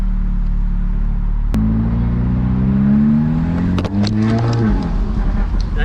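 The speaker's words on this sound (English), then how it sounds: "let's see what this car sounds like and how it feels" An Audi S3 widebody engine revs on a ride along, climbing steadily in pitch through a gear, then dropping off with a shift, loud and close from inside the car.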